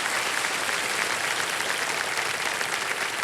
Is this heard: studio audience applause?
yes